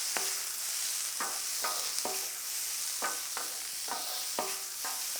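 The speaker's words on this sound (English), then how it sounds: "A little extra salt and pepper. That's what I like. Give them a good mix." Seasoned onions for a Philly cheesesteak sizzle steadily on a hot grill while a metal spatula scrapes and flips them in repeated sharp strokes, close and alone.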